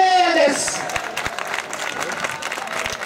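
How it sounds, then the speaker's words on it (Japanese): Audience clapping at a student pro wrestling event at a Nakasu festival, a crowd applauding steadily while an announcer talks loudly over it. "大きな拍手をしてくださいよ"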